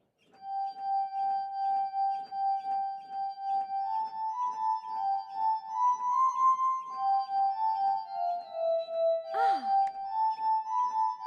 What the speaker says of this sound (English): This is an invention of Dr. Franklin's called the glass harmonica.